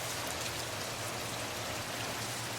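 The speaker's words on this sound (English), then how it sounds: "And you can see it got much lighter right now. The heavy downpour is basically over." Light rain falls steadily by the Smith River after a heavy downpour, a soft, even patter and hiss with no voices.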